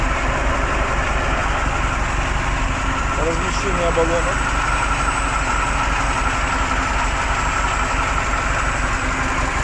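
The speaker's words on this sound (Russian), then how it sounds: "Сейчас после запуска идет притирка на холостом ходу" A converted KAMAZ truck with an 8-cylinder engine running on methane gas idles right after starting, a steady continuous rumble that holds at the same level throughout, with someone talking over it.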